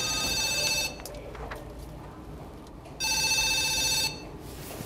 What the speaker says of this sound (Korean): 입금을 하는 순간에도 빚독촉 전화는 계속 옵니다